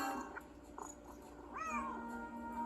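A cat in a Nancy Drew video game meows once, clear and rising, after a few soft clicks over a faint background hum.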